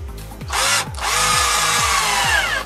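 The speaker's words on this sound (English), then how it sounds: "just place your screw in there and just drill it in" A power drill whirs loudly and steadily, briefly stopping and restarting, with a continuous high-pitched grinding as it drives a screw into wood.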